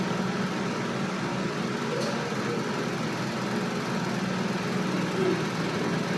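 A sewing machine runs steadily while stitching a hem on a pleated brocade dress, giving a continuous, even mechanical whir that is fairly loud and close throughout, with no pauses.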